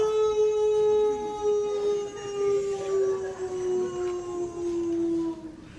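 A voice imitates stray dogs howling in a street at night, a single long sustained howl with a steady pitch that slowly droops, loud and close with no talk over it.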